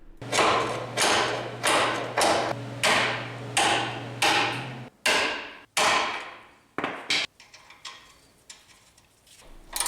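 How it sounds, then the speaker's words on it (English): Repeated heavy hammer blows driving a bolt through a shock absorber mount on a 4th-generation Toyota 4Runner, about a dozen strikes in a steady rhythm that slows and grows lighter toward the end, with a low hum underneath. "I was able to hammer the bolt through the rest of the way"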